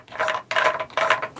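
Ratcheting clicks from winding the film advance knob of a Nu-Box 1 box camera, three close, evenly spaced grinding turns with no talking over them.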